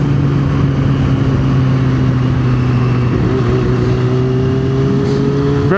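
A Jeep drives past a Yamaha R6 motorcycle on the road, its engine a steady, fairly loud drone that rises slightly in pitch toward the end, with continuous road and wind noise throughout.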